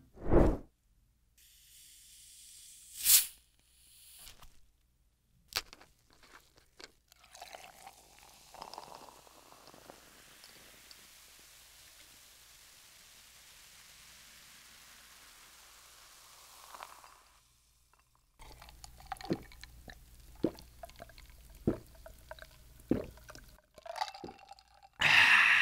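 A cola is opened and poured before a grilled spicy octopus meal, heard as a sharp pop, a long soft fizzing pour, then scattered clinks and small bubbling sounds, all close and without talk.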